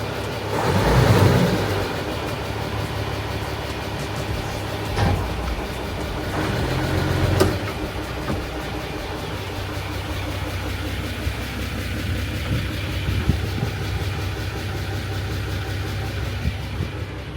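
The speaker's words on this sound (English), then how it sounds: "I'm going to turn the engine on, do a reverse test, see if it makes that friction noise." Inboard engine of a wooden sailboat run in a reverse and forward test, a steady idling drone with low rumble and occasional sharp clicks when gears engage, close and continuous.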